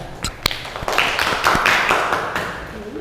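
Classroom applause for a student named Nisa during an Islamic lesson: a brief burst of scattered clapping that swells and then fades over a few seconds, with a few sharper taps at the start.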